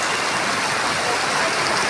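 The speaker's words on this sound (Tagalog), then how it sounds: "lumalakas-lakas talaga yung ulan" Steady heavy rain falling outdoors near a street, a dense even hiss of downpour filling the whole moment at close range, with no voices heard.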